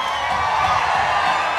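A concert crowd at a sold-out live show cheers loudly in a steady, continuous roar of voices and whoops for the whole moment.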